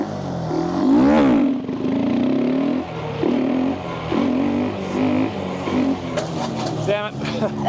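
A motorcycle engine revving hard as a rider pulls a wheelie, a loud rising and falling roar with a sharp peak early on, then several shorter bursts of throttle, with a voice talking over parts of it.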